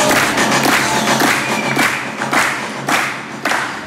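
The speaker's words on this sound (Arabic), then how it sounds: "يلا تصفيقة كبيرة على بيا كريم الغربي" An audience applauds Karim Gharbi with loud, sustained clapping from a crowd close by, with a few thumping peaks.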